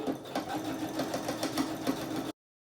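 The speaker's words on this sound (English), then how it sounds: "we are just going to sew all the way along both sides of our skirt pieces" A sewing machine stitching the side seams of a boho skirt, running with a rapid, even mechanical rattle and hum close by for about two seconds, then stopping abruptly into silence.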